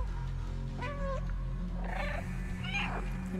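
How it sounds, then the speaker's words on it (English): Several meows from the cat in the video game Stray, a couple of short calls with a longer drawn-out cry near the end, heard over steady low game ambience with no talking. "I'm meowing, he doesn't hear me."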